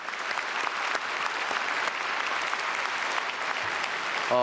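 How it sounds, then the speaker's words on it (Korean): A church congregation at a special early-morning worship service applauds together, a dense, sustained burst of clapping that fills the room, with a voice beginning to speak at the very end. "우리 박수로 축복해 주시면 감사하겠습니다"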